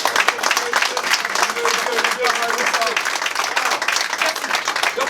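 An audience at a Haitian conference-debate breaks into sustained, dense applause, with many hands clapping continuously and fairly close, while a voice carries on faintly underneath.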